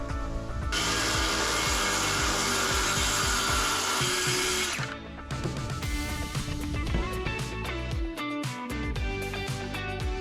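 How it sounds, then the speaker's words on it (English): A power saw cuts diagonally through a sheet of plywood for the sides of a DIY bike ramp, giving a loud, steady, whining rip for several seconds, then a brief pause and shorter tool bursts with clatter and handling sounds. "I mark out and cut this one piece of plywood on a diagonal in order to create the sides of the ramp."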